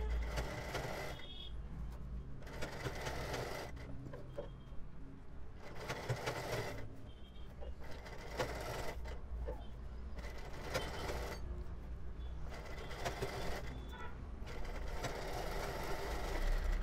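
Sewing machine stitching along the neck of a boat-neck kurti, working right into the corner: faint, repeated short bursts of whirring at a regular rhythm, separated by brief pauses, over a low steady background hum.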